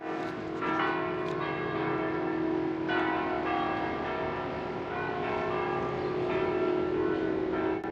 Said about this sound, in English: We hear the bells. It's time for mass.